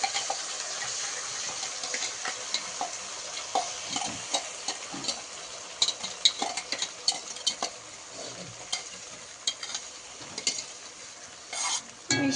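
Chicken sizzles and spatters in a hot pan as a spice mix goes in, a continuous close frying hiss broken by sharp pops and occasional utensil clinks, with no talking.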